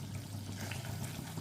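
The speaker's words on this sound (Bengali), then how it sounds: "এবার এখানে পরিমাণ মতো মিক্সির বাটি ধোয়া 1 বাটি জল দিয়ে দিলাম" A bowl of water, used to rinse the mixer jar, pours into spice masala cooking in a pan; steady, close, continuous liquid pouring sound for the whole moment, no voices.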